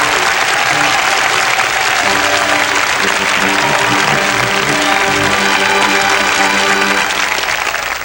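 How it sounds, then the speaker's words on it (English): Applause from a television circus special audience, a loud, sustained roar of many hands clapping that holds steady throughout, with a faint murmur of the crowd beneath. "A big bear hug and a lot of applause for Mr."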